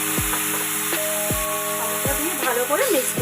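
Tomato paste sizzling and frying steadily in a pan for a Bengali mustard pabda fish curry, with repeated stirring scrapes and a constant hiss; a few faint tonal chirps rise near the end.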